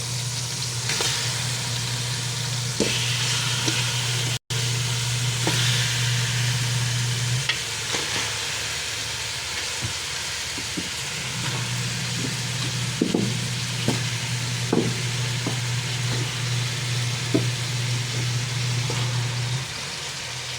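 Pork ribs and pork hock go into a hot pot for sinigang and sizzle steadily for about twenty seconds, a loud, continuous frying hiss over a low hum, with occasional clicks of utensils and no talking.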